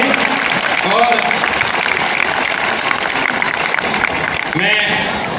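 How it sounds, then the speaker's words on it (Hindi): Steady applause from an audience for performing children at an Arya Samaj foundation day celebration, a continuous dense clapping texture with faint voices and brief whistle-like tones rising over it. "बच्चों के लिए एक बार जोरदार तालियों के ऊपर आप उनका अभिनंदन करें"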